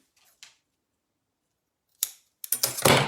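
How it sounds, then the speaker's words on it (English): Scissors snip through sewing elastic for an ironing board cover, a few sharp close cuts with quiet gaps between, ending in a brief flurry of snipping and handling. "So I'm going to cut my elastic down now."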